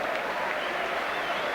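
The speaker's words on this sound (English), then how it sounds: "going off to warm applause from the crowd here" Warm applause from a football crowd at a West Ham match as a player is substituted off, a dense, even wash of distant clapping filling the whole stretch without a break.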